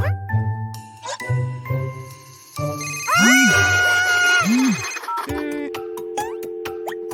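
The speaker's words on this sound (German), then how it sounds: "Da ruft schon wieder jemand an." A telephone rings in a children's cartoon on a stormy night, a bright repeating jingly ring over musical tones, with chimes and whooshing sound effects alongside and no talk.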